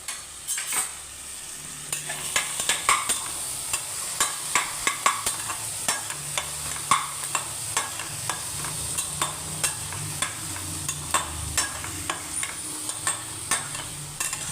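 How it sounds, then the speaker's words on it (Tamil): Ginger and garlic sautéing in a pot of khichdi, with a steady sizzle under rhythmic, regular clinks and scrapes of a spoon stirring against the vessel, close and moderately loud. "நல்லா வதக்கிக்கணும்."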